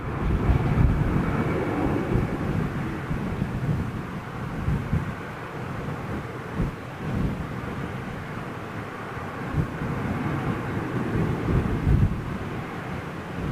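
A test bed jet airliner flies past at a distance, its engine roar a broad, steady rumble that swells and ebbs, mixed with wind buffeting the microphone.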